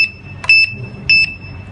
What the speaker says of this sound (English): Kata alarm ni dia akan bunyi lah.